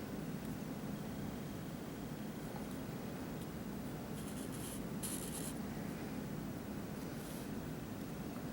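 Pencil scratching steadily across paper while an isometric drawing is sketched, a soft continuous rubbing close by with no talking.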